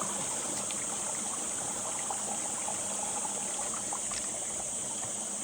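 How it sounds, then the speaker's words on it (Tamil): The Manganai stream flows beside a mountain path on the way to a Sivan temple, a constant near, even rushing hiss of running water with no breaks and no voices. "இதுதான் மாங்கனி ஓடை. மாங்காய் பத்த அளவுக்கு தான் ஓடுது."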